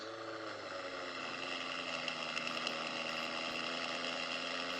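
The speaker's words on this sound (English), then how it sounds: "Is that an E92 M3?" The engine of a BMW E92 M3 hums steadily with a dense, smooth mid-pitched tone, a constant moderately distant drone without talk.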